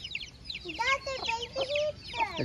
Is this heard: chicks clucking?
yes